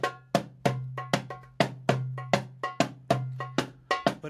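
An Arabic hand drum plays a plain Levantine dabke rhythm: deep ringing doum strokes alternate with sharp tek slaps in a steady, sparse, up-close pattern with little ornamentation.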